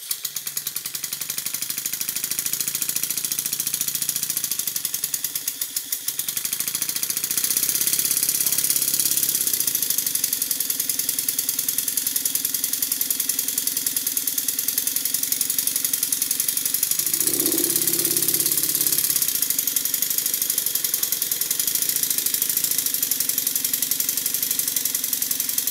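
A small Stuart model steam engine runs steadily with a rhythmic, knocking chug and faint rattle, continuous and close for the whole stretch.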